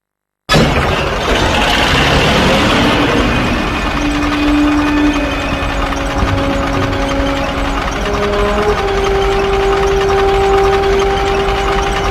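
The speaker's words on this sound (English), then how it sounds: "we escaped in the last surviving T-34 after an assault on an old factory near Volgograd. But our tank soon had engine trouble" T-34 tank engine from the video game Call of Duty: Finest Hour, running with engine trouble: a loud, steady mechanical rumble and drone, with shifting whining tones over it and no voices.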